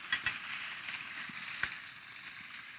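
Food fries in oil in a pan on a kitchen stove, giving a soft continuous sizzle with occasional sharper pops and crackles, fairly quiet and close.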